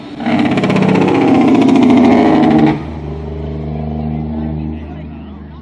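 A truck at a 2015 jake brake contest barks loudly with its engine brake, a harsh pulsing roar that cuts off abruptly, followed by a lower idling rumble as an announcer talks over it.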